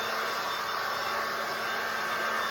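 A Ryobi 40V cordless leaf blower runs with a steady, loud broadband whoosh and a constant motor whine, unbroken for the whole stretch with no talking.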